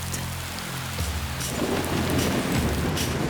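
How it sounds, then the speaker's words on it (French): A thunderstorm breaks out at a field camp in Madagascar: low rolling thunder swells under steady, dense rain hissing on surfaces, growing louder and heavier partway through, with no voices. "Corey et ses assistantes terminent tout juste l'installation des filets lorsqu'un orage éclate."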